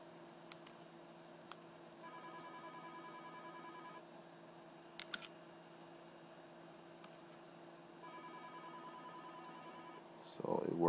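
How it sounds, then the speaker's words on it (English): An iPhone 3GS rings on an incoming call, its tone sounding in two faint bursts over a low steady hum in a quiet room, with small clicks and a louder rustle at the end. "So as you can see, the phone's ringing."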